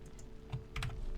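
Keys clatter on a computer keyboard while playing Scrap Mechanic, a short burst of quiet irregular clicks and taps with a couple of firmer strikes, heard alone with no voices.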